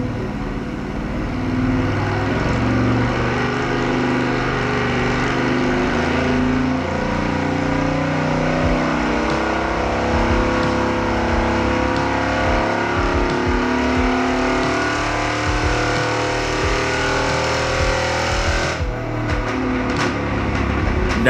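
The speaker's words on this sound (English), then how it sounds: "he's going to sweep his hand, telling me to floor it" Stock Chevrolet small-block Vortec V8 with headers, cold air intake and an electric fan, run on a chassis dyno, roaring loud and close through a sustained full-throttle pull that climbs and holds before easing near the end.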